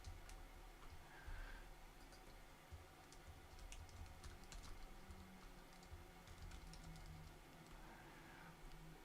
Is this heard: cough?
no